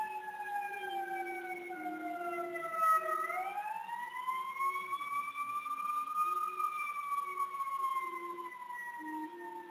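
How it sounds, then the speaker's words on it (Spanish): A wailing ambulance siren sweeps slowly up and down in pitch as it passes, steady and fairly distant, with a low engine rumble underneath. "Una ambulancia ahí."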